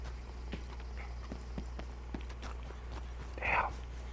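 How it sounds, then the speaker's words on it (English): Horse hooves clop along at an even walking pace in Red Dead Redemption 2, moderately faint, over a steady low hum, with a brief brighter chime near the end. "Whose horse is that?"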